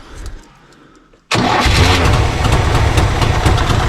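A 1960 Panhard PL17 car engine, its ignition timing freshly set, cranks briefly after a quiet moment and catches abruptly, then settles into a loud, steady idle close by.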